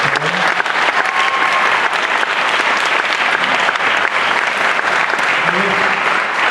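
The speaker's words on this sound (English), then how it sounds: "How about a round of applause for taking the time to put it together?" Dense, steady applause from a large audience fills the whole stretch at a percussion day, honoring the Waterford Kettering drumline soloists at MSU, with a voice faintly audible beneath the clapping.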